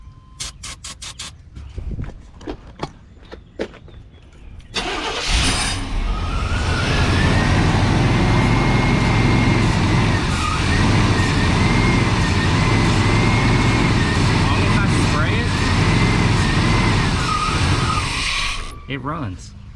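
A 1995 Chevy Blazer engine with a newer ignition and a suspected bad fuel pump, heard cranking in short bursts, then catching and settling into a steady, loud, close idle with a faint whine before cutting off.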